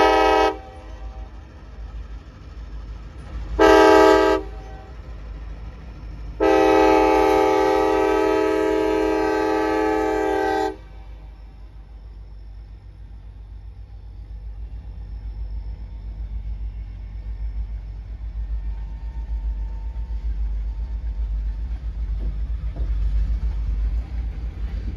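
Train approaching a railroad crossing sounds its horn in three blasts, two short and one long, loud and fairly near, followed by a steady low rumble of the passing train.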